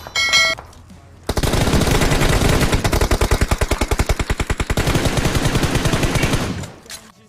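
Automatic gunfire from BGMI mobile battle royale gameplay rattles in a long rapid burst of close, loud shots, following a brief earlier sound and ending with a short pause.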